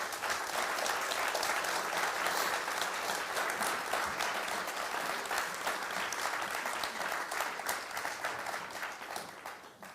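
Sustained applause from a large audience after speakers at a talk, steady and loud throughout, slowly tapering near the end.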